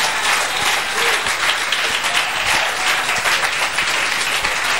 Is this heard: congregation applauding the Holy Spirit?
yes